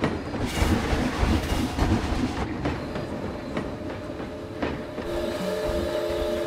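A train rolls along rails in a video game park, rhythmic clickety-clack of wheels over track joints with a rumbling undertone, and a steady tonal hum emerges near the end.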